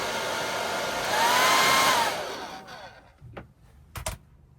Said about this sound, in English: soften it up with the air dryer all the way through